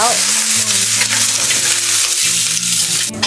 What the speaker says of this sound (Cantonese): 熱鑊冷油，放啲蒜薑去炒炒先，放埋豬腳落炒